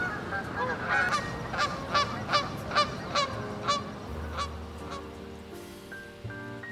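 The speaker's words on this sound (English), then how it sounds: "Geese here, geese there, geese everywhere." Geese honk repeatedly in a noisy chorus, loud calls in irregular bursts that gradually thin out, with a low steady hum underneath.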